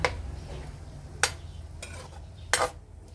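Minced pork for Thai larb is stirred and broken up in a pan. Three or four quick scraping strokes of a spatula come over a low sizzle, close and moderately loud.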